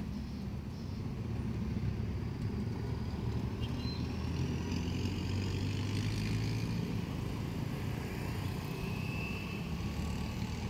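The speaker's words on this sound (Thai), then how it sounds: "รถเมย์ผ่านไปเป็นสาย2ค่ะ" Buses pass by in a line near a train, a steady low rumble of engines and traffic that stays fairly faint and constant throughout, with faint higher whines drifting in and out.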